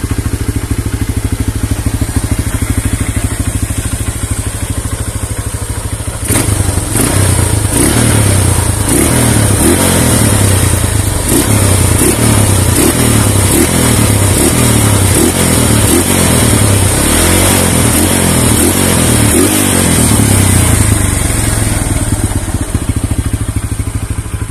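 A Honda Megapro motorcycle fitted with a modified Scorpio Z aftermarket exhaust, set up for touring, idles loudly up close and then revs repeatedly in a steady pulsing rhythm of throttle blips, with no talking.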